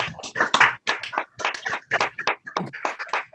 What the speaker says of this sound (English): If we can all unmute and give Rabbi Marc a big round of applause